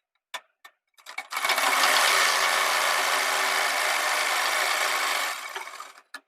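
An electric sewing machine stitches seams on a 3-year-old boy's kurta: a few sharp clicks, then a steady close-up whirring run of about four seconds that stops abruptly.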